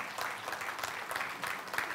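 An audience claps at a talk, a soft, steady, diffuse patter of many hands that stays fairly quiet and distant for the whole stretch.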